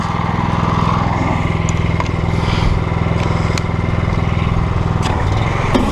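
Close and loud, the gas engine of a pressure washer runs at high pressure with a surface cleaner attached, a constant throbbing drone with no speech over it.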